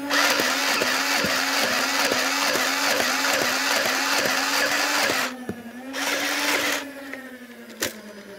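Nerf Ultra blasters firing darts in burst mode with Ultra Classic and Ultra Q-Strike darts, a loud, fast, regular mechanical chatter of flywheel shots, then brief pauses and a few lone shots.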